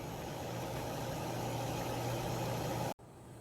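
A car engine idles steadily after starting while its overheating is checked, a continuous close hum with no talking, briefly cut near the end.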